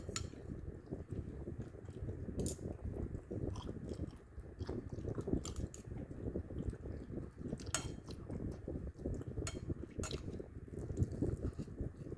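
Dried mango being chewed up close, a steady moist munching with occasional sharp clicks, alone without talk for about twelve seconds.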